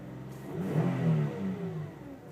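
A 2012 Ford Escape Limited V6 engine revs once, the pitch rising then easing back down to idle, heard close and fairly quiet with no one talking.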